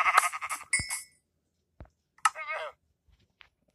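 Sheep in the Minecraft video game bleat twice in short wavering calls, with small clicks and game effects between them, crisp and close against otherwise silent gaps.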